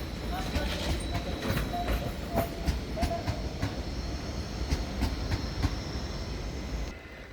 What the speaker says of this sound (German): Einfahrt der RB40 von Mühldorf mit der Baureihe 245 am Ende.